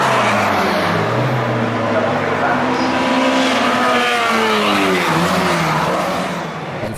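Historic Formula 1 race cars charge down Paddock Hill bend at Brands Hatch, engines wailing loudly with rising and falling pitch as they sweep past, and tyres squeal along the way.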